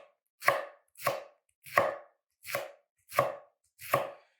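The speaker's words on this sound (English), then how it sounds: "We're going to dice up the shallots." A chef's knife dicing shallots on a cutting board, six evenly spaced crisp chops close by, each one sharp and alone with brief silence between.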